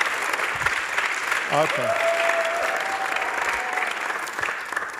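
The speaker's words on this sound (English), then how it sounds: "did you see that spontaneous, overwhelming applause?" A church congregation applauds during a Sunday service, steady clapping filling the room for several seconds while a voice briefly speaks over it.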